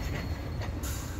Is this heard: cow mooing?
no